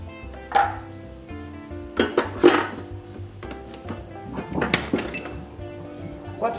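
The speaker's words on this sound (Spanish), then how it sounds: "en la Thermomix y los picamos." Crab sticks chopped in a Thermomix, giving a few loud rattling, thudding bursts of blade and container clatter against a steady background hum.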